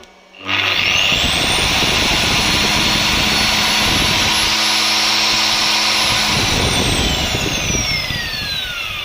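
A 1.5 kW angle grinder powered by solar power spins up from silence to a loud, high whine within a second, then runs steadily and close before its pitch starts sliding down as it winds off near the end.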